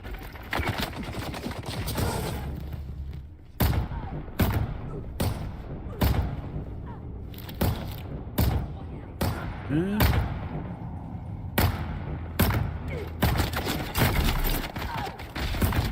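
A Dune: Awakening dart weapon firing three darts at a time, loud sharp shots repeating in irregular clusters across the stretch, with talking in the background between volleys.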